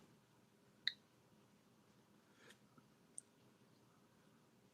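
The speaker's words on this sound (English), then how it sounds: "I dug out my Geiger counter. It is working. It's counting alpha and beta waves right now" A Geiger counter counting background radiation gives a few faint, isolated clicks at irregular intervals over near-silence.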